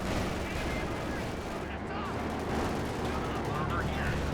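Constant battlefield gunfire and explosions from Company of Heroes 2, a World War II strategy game, fill the scene as a bazooka fires amid dense, loud, overlapping combat noise.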